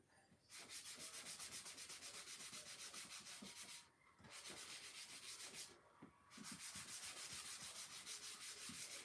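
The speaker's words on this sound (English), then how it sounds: "I am sanding and waxing this just to smooth out my paint." Steady abrasive rubbing of sandpaper across a painted wooden shiplap sign while it is waxed and smoothed, continuous close scratching strokes with two short pauses.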